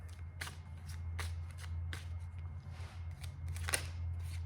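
Playing cards being shuffled up close, with a run of soft riffling flicks and sharp snaps over a low steady hum, and no one speaking.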